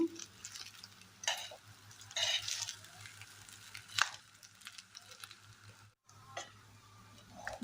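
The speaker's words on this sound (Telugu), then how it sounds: "ఇవన్నీ బాగా కలిసేలా కలుపుకోవాలండి" Egg rice being stirred and mixed with tempering in a pan, with intermittent scraping and clinking strokes of a spoon against the metal and faint sizzling, fairly close and moderately quiet, no talking.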